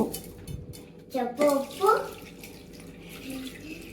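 Water is poured onto mutton with turmeric and salt in a pressure cooker, a few short splashing gurgles in the middle of an otherwise quiet stretch, with a faint voice in the background.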